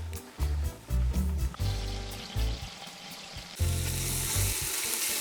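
Garlic and chili, frozen and thawing, fry in avocado oil in a pan at an outdoor overlanding camp, giving a steady close sizzle with low rumbling bursts and a brighter, louder hiss near the end.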